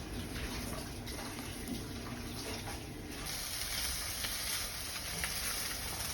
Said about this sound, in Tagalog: Kumukulo na po